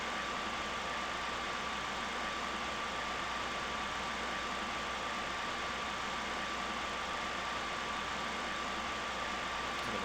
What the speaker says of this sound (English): Engines have throttled back.